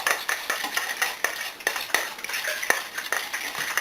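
A fork mixes shrimp together in a bowl, repeated sharp metallic clinks and scrapes in an uneven rhythm, close and fairly quiet, without talk.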